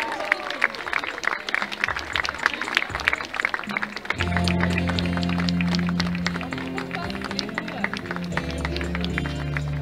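Scattered clapping at first, then a fuller round of applause from an audience at a Venetian carnival event in Aix-les-Bains, over a low steady hum, continuing to the end.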